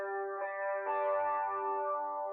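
A sustained electric guitar chord rings out clearly, with a couple of soft re-strums or shifts partway through, then decays slowly, alone and mid-loud.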